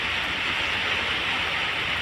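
Sudden heavy rain pours down in Kuching, a dense, steady hiss of downpour filling the scene continuously and loudly with no voices over it.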